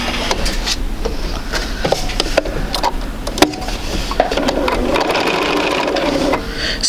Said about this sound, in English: we're going to sew at each end